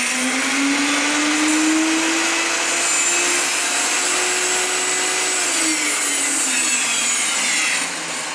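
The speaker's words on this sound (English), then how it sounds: "Little Dremel belt disc sander combination." A small Dremel belt and disc sander combination motor runs alone and close, a loud steady whine that rises slightly in pitch, holds, then drops away just before the end.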